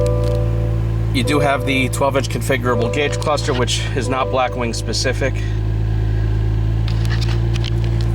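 A 2022 Cadillac CT4-V Blackwing with a six-speed manual, finished in Blaze Orange, idles with a steady low engine rumble after starting, while someone talks nearby over the running engine.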